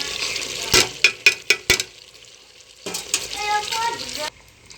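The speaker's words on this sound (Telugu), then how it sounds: "ఈ స్టేజ్లో మనం టమాటో ప్యూరీ వేసేసుకుందాం" Tomato puree going into a pan of marinated chicken biryani masala, giving a few sharp clattering hits followed by a bright, steady sizzle and frying hiss up close.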